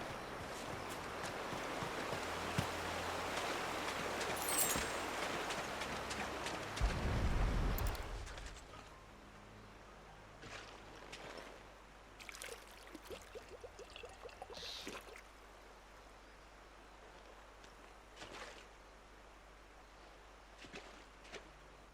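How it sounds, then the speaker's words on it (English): River water in Final Fantasy XVI rushes loudly as a broad, steady wash for the first eight seconds, then drops to a faint trickle punctuated by scattered soft footsteps and splashes. "We can collect the water of the river from here."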